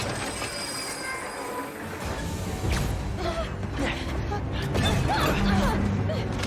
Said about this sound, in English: Now it's time for Spider-Man in roller coaster.